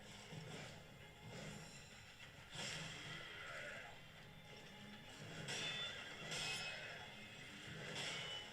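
In the video game Sekiro a horse whinnies and its hooves clip-clop in a steady gallop. The sounds are moderately close within a busy game mix, with no talking over them.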